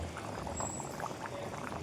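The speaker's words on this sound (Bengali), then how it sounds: "এখানে এই এই ডিমের ঝোল ফুটছে বুঝতে পারি যে টকবক টকবক করে" A pot of egg curry bubbles quietly on the stove, a soft, steady popping and gurgling heard up close.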